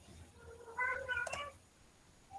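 A house cat gives a single short meow indoors, fairly faint and close, against quiet room noise.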